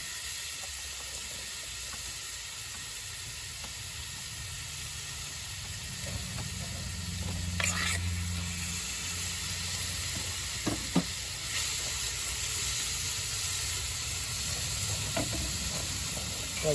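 Chicken and chorizo paella frying in a pan on a Cadac BBQ gives a steady close sizzle and hiss throughout, with a low bubbling rise midway and a few light clinks of utensils against the pan.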